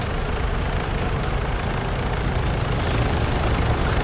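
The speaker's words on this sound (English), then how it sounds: "This helicopter swoops by" A helicopter in ARMA 3 swooping past, its rotor and engine noise a loud, continuous low thrum that stays dense and close for the whole stretch, no talk over it.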